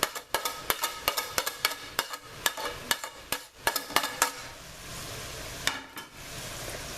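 Beef and bean chili ingredients frying in a pot, with repeated sharp spoon scrapes and clinks against the pot over a steady sizzle, loud and close, no voices.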